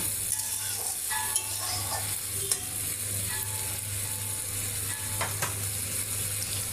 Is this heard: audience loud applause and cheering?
no